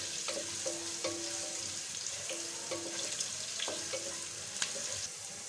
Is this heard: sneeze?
no